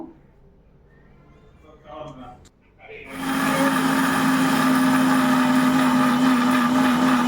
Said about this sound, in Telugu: ఫ్రెండ్స్ మిక్సీకి వేసుకున్నాం ఇట్లా పొడి అయింది చూడండి